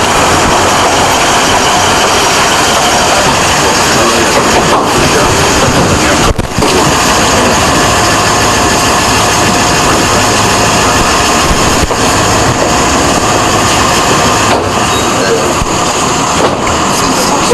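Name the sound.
airplane engine at arrival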